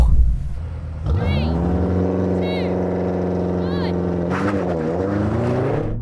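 Generations of BMW M5 cars launch side by side in a drag race: engines idle briefly, then surge into a loud, close, rising roar that holds and wavers through upshifts.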